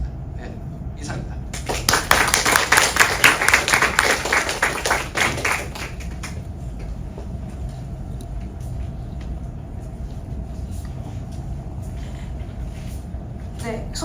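Applause from a lecture audience follows a talk on consumer revolution, a dense patter of clapping rising for about four seconds and then fading out, with room noise remaining afterwards.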